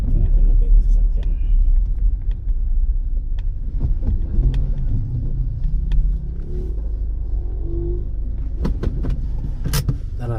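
A car pulls in to park outside a house, its engine rumbling low and close, with a few clicks and knocks and brief talking near the end.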